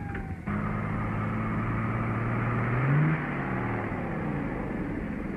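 A car races along at about 45 miles an hour, its engine a loud, steady drone with a whining tone that swells and rises midway, heard alone without voices.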